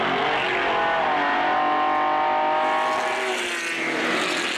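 Race cars, among them a 1970 Datsun 240Z, roar past on a circuit at a vintage reunion race, engines loud and close with a steady high-pitched drone whose pitch bends as they go by.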